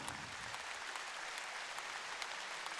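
Theater audience applauding at an anniversary folk ensemble concert, a dense even patter of many hands, steady and distant-sounding, with no voices over it.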